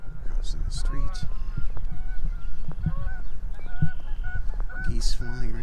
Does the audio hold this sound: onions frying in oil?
no